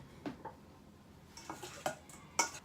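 Spicy sauce-coated cauliflower pieces are stirred in a pan, giving several soft, separate scrapes and clinks of utensil on cookware with quiet pauses between them.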